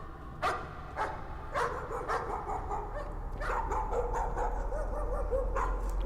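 A dog in the horror game Layers of Fear gives several sharp barks and yips in a spaced, irregular series, moderately close, over a low ambient rumble.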